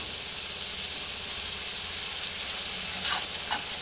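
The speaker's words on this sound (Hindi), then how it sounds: "जब तक ये मसाला तेल न छोड़ दे तब तक मैं ये मसाला भूनती रहूंगी" Masala spices with turmeric powder sizzle steadily in oil while being roasted, a constant close frying hiss with a few brief stirring scrapes near the end and no voices.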